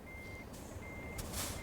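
An Iveco Stralis truck reversing in Farming Simulator 2013, its steady high beeps pulsing in long tones over a low engine rumble, with a short hiss of air brakes near the end.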